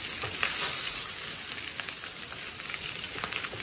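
Pork embotido frying in hot oil gives a steady, dense sizzle and crackle throughout, close and even, with no voices.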